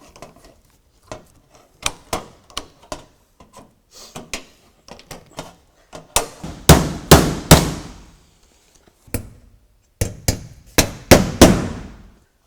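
Hammer blows driving nails into roof shingle hip caps, sharp single strikes in irregular clusters, some light taps and then louder, ringing hits, close by with short pauses between groups.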